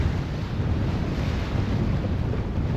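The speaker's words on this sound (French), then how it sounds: "Il y a beaucoup de vent." Strong wind on a sailboat roars steadily across a small action-camera microphone, a loud, continuous broadband buffeting with no pauses, probably mixed with the rush of water.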